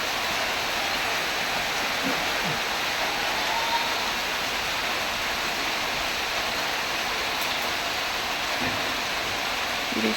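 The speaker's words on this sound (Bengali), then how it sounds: "ভাতটা নামাইছে, আর তারপরে পরে দেখেন আবার বৃষ্টি শুরু হয়ে গেল।" A steady, soft hiss of light rain falling without pause, even and continuous from start to finish, with no voices.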